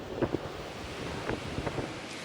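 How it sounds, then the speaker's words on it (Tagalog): Strong storm wind in Ilocos Norte roars steadily against the microphone with a few gusty thumps, while a low wash like surf sits underneath, and no one speaks. "Binayo na rin ng malakas na hangin ang bayan ng Pasukin."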